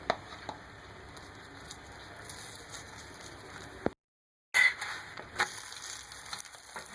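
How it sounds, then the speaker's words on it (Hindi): Egg vegetable paratha frying with ghee on a pan gives a soft, steady sizzle and patter that continues throughout, broken by a brief dropout and a few sharp clicks. "ऊपर जो है हम घी भी डालेंगे, पलटेंगे इसको, इसके ऊपर हम डालेंगे घी।"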